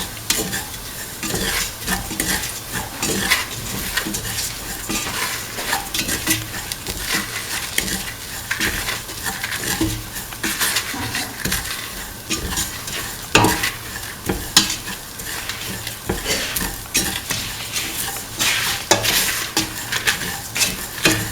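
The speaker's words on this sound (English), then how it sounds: "Now put in the semolina. Mix the semolina with the rest of the mix." Semolina being mixed into a split chickpea mixture in a pan, giving continuous loud scraping and stirring with a gritty, crackly texture and quick, even strokes throughout and no voices.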